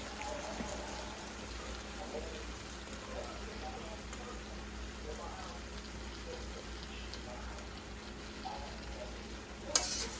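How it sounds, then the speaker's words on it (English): Steady crackling sizzle of pork chops, cabbage, potatoes, onions and peppers frying in a pan, a continuous dense hiss at moderate level with one brief clink near the end. "let's get this stuff to frying"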